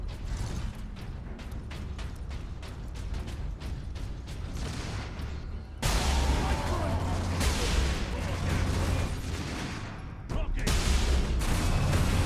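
Gunfire clatters in Warhammer 40K: Space Marine, with a fast run of sharp, evenly spaced shots followed by heavier, denser bursts of fire and mechanical rattling, fairly loud throughout.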